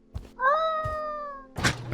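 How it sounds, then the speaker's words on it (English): A cat in a video game meows once when petted, a clear drawn-out meow framed by soft thumps and a brief rustle at the end. "Pet the kitty cat."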